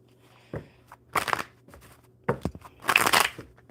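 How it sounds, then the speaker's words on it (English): A deck of playing cards being shuffled by hand during a tabletop card reading, two separate bursts of riffling crackle, fairly close, with quiet pauses between. "One more good shuffle."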